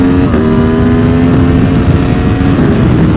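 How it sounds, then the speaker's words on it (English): An Aprilia Tuono V4 motorcycle with a Campisi carbon fiber exhaust can roars loudly and steadily, its engine note held high and close throughout with a slight rise near the start. "We're not going to trim that exhaust can down, the carbon fiber can from Campisi. The sound is perfect."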